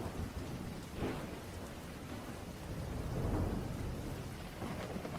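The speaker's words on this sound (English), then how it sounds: "Rain lashed against the corrugated iron roof of the old lighthouse, the wind howling like a banshee" Rain and wind batter an old lighthouse with a corrugated iron roof, a dense steady roar of downpour with low rumbling gusts swelling and fading throughout.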